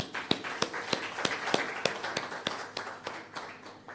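Applause at a national health research conference, heard as a thin, evenly spaced series of distinct claps from a small number of hands, fairly close and moderately loud.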